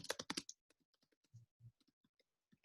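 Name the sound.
typing on computer keyboard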